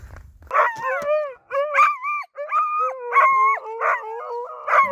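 Several huskies howl and whine in overlapping, wavering tones, close and loud, restless with pauses between bursts, at the start of a winter trek in the Käsivarsi wilderness of Finnish Lapland.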